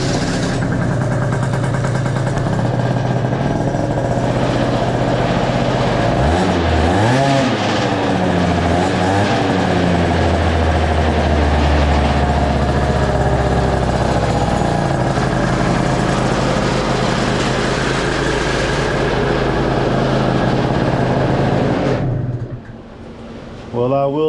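A 2003 Derbi Atlantis scooter fitted with a stage 6 exhaust idles steadily and loudly up close, its engine drone holding for about twenty seconds with a brief rise in revs before it shuts off near the end.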